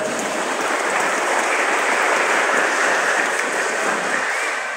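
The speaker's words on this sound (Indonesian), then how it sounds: "Tepuk tangan semuanya." Applause from an audience at an Islamic boarding school end-of-year celebration and Quran completion ceremony, a dense steady clatter of many hands filling the space at moderate loudness, with no one talking.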